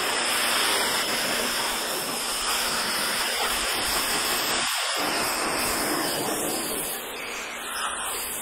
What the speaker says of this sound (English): Now is the time that I'm rinsing down the paint completely.